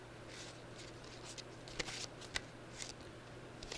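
Tarot cards being shuffled by hand, a soft papery riffling and patter with a couple of sharper snaps, fairly quiet over a steady low hum.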